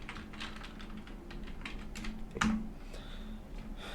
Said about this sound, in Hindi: तो कंपनी का यहाँ पे हम वेबसाइट टाइप करेंगे।